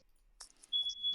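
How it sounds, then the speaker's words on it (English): A home smoke alarm sounds a thin, steady high-pitched beep, faint and somewhat distant, with a few soft bumps and noises around it. "is someone's fire alarm is going off, man"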